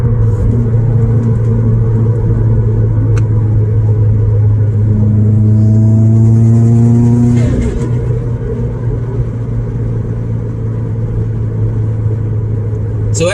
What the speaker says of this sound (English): Let's see if we can get some more sound clips of that bypass valve.